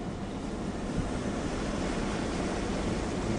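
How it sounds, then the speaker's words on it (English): A creek running high and fast, rushing and roaring in a steady, unbroken wash of broadband noise with no voices over it. "You can hear the creek rushing and roaring"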